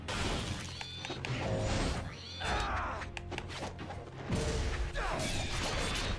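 A twin-bladed weapon called Katetsu swings fluidly and slashes in a video game, giving repeated whooshes and sharp shattering, crashing impacts that come in dense bursts with brief lulls between them.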